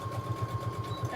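A sewing machine back stitches a tote bag seam, giving a quick, steady run of rhythmic thumps close by with a faint whine under them, and no voices.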